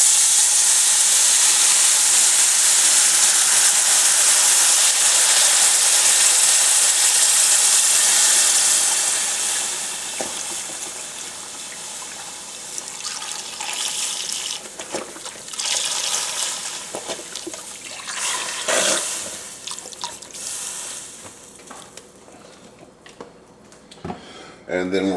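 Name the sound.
pouring beef broth into pot with seared roast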